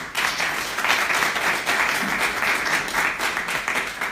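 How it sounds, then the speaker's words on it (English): Audience applause fills a talk on bipolar disorder and mental illness stigma: steady, dense clapping from many hands, loud and continuous throughout with no voices over it. "Can we just clap for him?"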